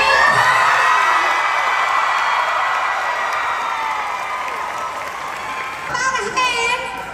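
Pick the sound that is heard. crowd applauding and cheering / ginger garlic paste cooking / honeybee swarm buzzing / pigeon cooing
crowd applauding and cheering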